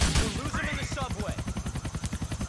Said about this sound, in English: Niko thinks shooting a helicopter is good.